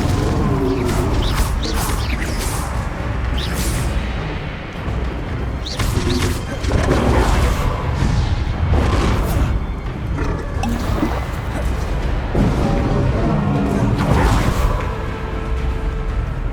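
Confringo explosive spells go off in the video game Hogwarts Legacy as a string of booming, crashing bursts at an irregular pace, mixed with other game sounds and a voice shouting over them.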